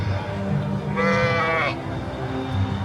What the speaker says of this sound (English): Oh, look at the sheep down here.